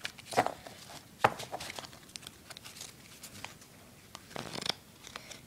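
Playing cards cut and shuffled by hand for a magic trick, soft quick riffling and sliding card sounds in a few bursts, close and fairly quiet with no talking.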